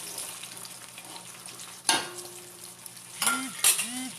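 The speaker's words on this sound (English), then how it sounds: "I'm going to go in and add our garlic in. It won't take too long for this to brown as well." Garlic frying and browning in a soup pot, a steady soft sizzle running throughout, with a couple of louder metallic stirring scrapes and clinks near the end.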